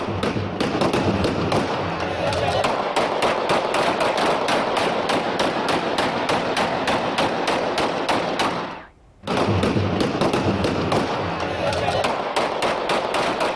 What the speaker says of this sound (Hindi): यहां पर गल्ला मंडी यूनियन इलेक्शन में जीत की खुशी में हवाई फायरिंग की जा रही है